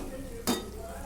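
A single brief scrape of a utensil stirring pasta in a pan, a short clink and rustle over a faint sizzle.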